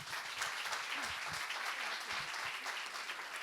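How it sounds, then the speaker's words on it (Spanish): An audience at a university forum on family and education in Panama claps for a speaker after her talk, a steady wash of applause from many hands that holds at an even level throughout. "Le damos el aplauso a la licenciada Lesbia"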